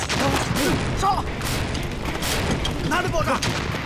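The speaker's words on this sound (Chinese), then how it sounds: "哪里爆炸？" Wartime drama battle at a port, with a dense volley of booming blasts and gunfire rumbling continuously, loud and close, while voices shout over it.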